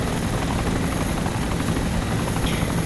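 A steady, loud engine drone from an aircraft in the DayZ Origins survival game, a continuous rotor-like roar holding at even volume throughout, with no one speaking.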